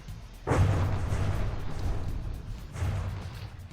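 Heavy cannon fire and explosions in the naval combat game From the Depths, with two deep booming blasts about two seconds apart over a continuous low rumble of battle.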